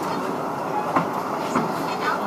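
The Busch Gardens safari train rolls along steadily with a low continuous rumble and a few soft clacks from the wheels, heard from on board at moderate volume.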